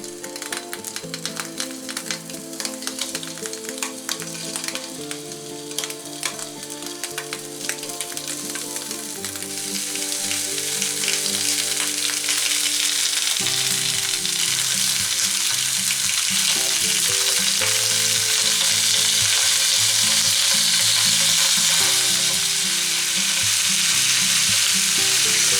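Small pieces of food frying in a pan with a squirt of olive oil, giving a crackling sizzle that swells into a dense, loud hiss partway through, with steady background music underneath.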